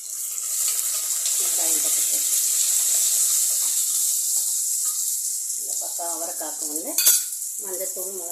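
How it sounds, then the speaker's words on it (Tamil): Dried red chillies, curry leaves and onions tempering in hot oil for a South Indian mutton dish, giving a steady loud sizzle throughout, with brief stirring clatter and a quiet voice talking near the end. "ஒரு நாலு காஞ்சி மிளகா கருவேப்பில போட்டு வெங்காயம் போட்டு தாளிச்சிக்கலாம்"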